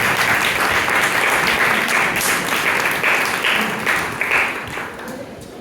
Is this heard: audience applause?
yes